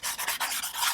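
Rapid back-and-forth wet sanding of a resin 3D-printed visor by hand, a steady raspy swish repeating in short strokes, close and fairly loud.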